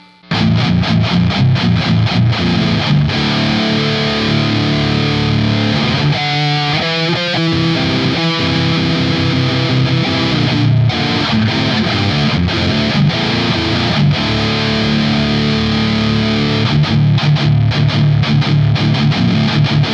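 Heavily distorted electric guitar through an EVH 5150III LBXII amp with gain at maximum, thick sustained chords with a burst of fast choppy riffing midway, loud and continuous, no talking.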